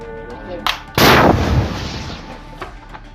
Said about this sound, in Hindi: फिर उसके ऊपर एंटी टैंक मिसाइल से हमला कर देते हैं